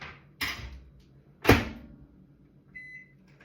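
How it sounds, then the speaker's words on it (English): A microwave oven in a home kitchen warming pierced fruit: two loud thunks of the door shutting and the oven being set, then a short high electronic beep, with no talking. "Just pierce it and pop it in the microwave and that will get it juicier."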